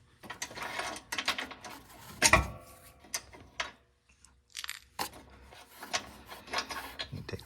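A ratchet loosens and backs out a bolt on a Ryobi RM480ex mower being prepped for winter, with bursts of quick clicking and metallic rattling separated by short pauses, all close to the microphone.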